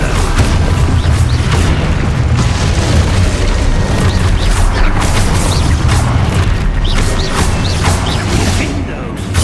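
Expulso blasting spells detonating in the Hogwarts Legacy video game, a dense run of loud booming blasts and crashing bursts over a continuous low rumble, close and sustained with chaotic combat effects.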